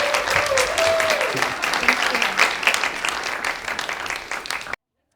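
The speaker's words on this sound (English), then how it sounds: "So please give her a round of applause" Church congregation applauding in a dense, steady burst of many clapping hands for about five seconds, with a voice briefly heard at the start before the clapping cuts off abruptly.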